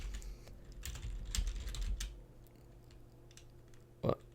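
Fingers typing on a computer keyboard, quiet and close: quick clusters of light keystrokes, then a lull and a single sharper click near the end.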